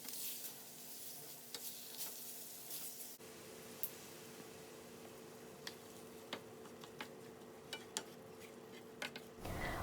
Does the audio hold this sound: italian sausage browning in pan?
yes